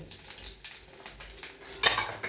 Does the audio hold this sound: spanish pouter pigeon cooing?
no